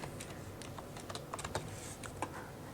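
Keys on a computer keyboard are tapped while text is entered into an MS Word document, giving faint, irregular clicks in short bursts over a quiet room.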